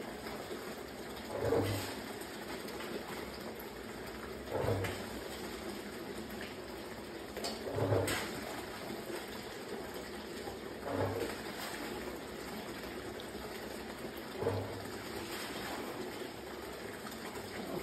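Wet gold-bearing material dumped onto a 3/8 inch screen, giving a series of repeated splashing, rattling washes at a steady rhythm against a constant flowing-water background.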